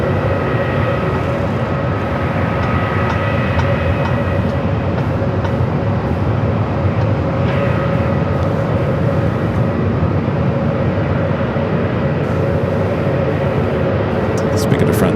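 An airliner takes off from runway 25 right at Phoenix Sky Harbor airport, a continuous broad jet roar lasting the whole stretch without easing, with faint voices mixed in.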